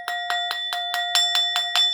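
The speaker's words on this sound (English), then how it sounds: "I just like ringing the bell" A small handheld bell is rung in a steady run of about nine bright, evenly spaced dings, close and clear, each strike carrying a sustained metallic ring with no talking.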